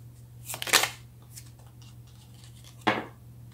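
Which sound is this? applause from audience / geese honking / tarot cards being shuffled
tarot cards being shuffled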